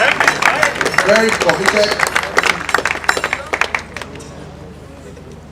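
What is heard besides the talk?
audience applause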